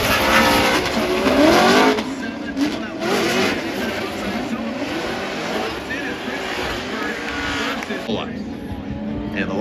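A Nissan Z drift car slides at big angle in competition, engine revving with tire noise in a loud burst early, then a steadier motorsport roar beneath ongoing commentary.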